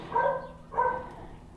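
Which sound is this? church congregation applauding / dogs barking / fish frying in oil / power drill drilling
dogs barking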